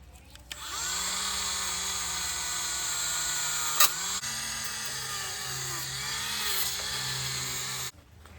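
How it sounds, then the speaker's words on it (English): A power wire wheel grinds surface rust off the taillight of a 1959 Willys Jeep station wagon, a steady loud whine held for several seconds with slight pitch wavers before stopping abruptly. "I'm just going to remove some of the surface rust with this wheel."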